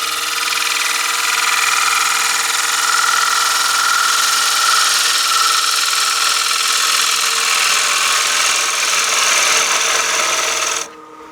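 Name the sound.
bowl gouge cutting wood on a lathe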